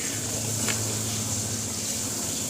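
Water pours into a pressure cooker in a kitchen, a close, steady rushing hiss that runs unbroken throughout without talk.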